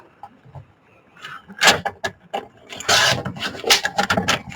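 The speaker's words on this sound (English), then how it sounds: "Trimming it down now. Nice, beautiful trim." Scissors or a blade trimming an altered book page, giving a series of close, papery rasping cuts that start faint and build into dense bursts, with no talking.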